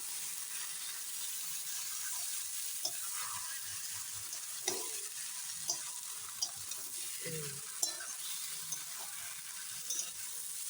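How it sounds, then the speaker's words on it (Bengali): Washed broken wheat (dalia) fries in oil with a continuous soft sizzle, broken by several distinct scraping stirs and knocks of the spoon, and no speech. "ধুয়ে রাখা ডালিয়াটা ভালো করে তেলের মধ্যে ভেজে নিই"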